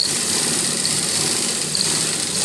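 Sewing machine stitching a folded edge of cloth for a baby dress, a steady close, continuous motor whir with a fine high-pitched running buzz and no pauses.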